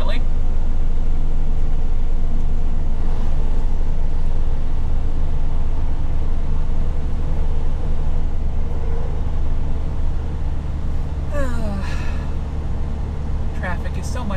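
A car driving on the I-49 interstate through a construction zone, steady loud road and engine rumble throughout, with a person talking over it.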